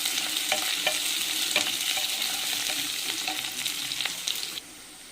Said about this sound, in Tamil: வெங்காயம், பச்சை மிளகாய், கருவேப்பிலை போட்டுட்டு வதக்கிக்கலாம்.